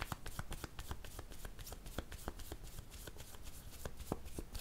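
Tarot cards are shuffled by hand in a quick series of crisp riffling snaps and slaps, close and fairly quiet, with brief pauses between bursts.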